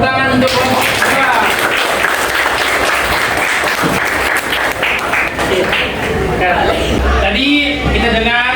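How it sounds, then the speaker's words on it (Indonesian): Loud applause from a classroom audience for a student presentation group, sustained clapping mixed with voices and chatter throughout. "Berikan tepuk tangan untuk kelompok kita."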